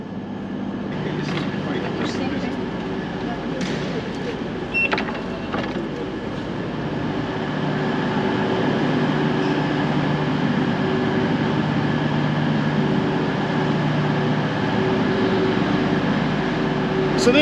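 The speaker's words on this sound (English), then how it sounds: "it certainly appears to be my train sitting right there at platform 3" A CrossCountry Voyager train stands at a station platform, giving a steady low engine drone with faint mechanical clicks and clanks for about seventeen seconds, fairly loud and continuous.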